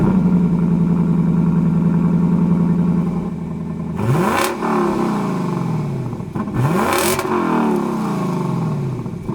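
A 2019 Lexus LC 500, a 471 hp luxury coupe, hums steadily, then twice revs sharply upward with quick rises and falls, loud and close with no voices.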